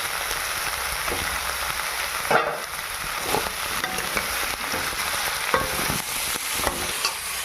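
Onions and chopped garlic frying in oil in a pan give a continuous close sizzle, with occasional scraping clinks of a spoon stirring; no speech.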